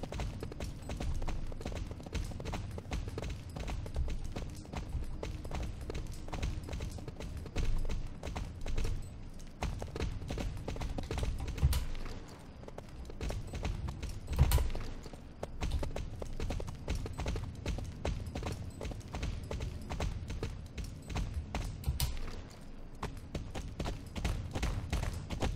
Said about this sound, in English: Wait, so could she hear my horse? Can they just hear all the horses?